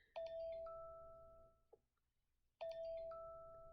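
An iPhone classic notification tone chimes twice, each a bright ringing ding that holds and slowly fades, separated by a brief quiet gap.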